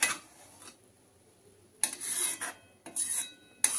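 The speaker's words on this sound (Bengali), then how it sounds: "চালটা দেওয়ার পর আমি এইভাবে নেড়ে নেব, পুরো ভালোভাবে মিশিয়ে নেব।" A metal spatula scrapes and stirs rice in milk for nolen gur payesh, producing several rasping, scraping strokes separated by quiet pauses, close and fairly faint, without any talking.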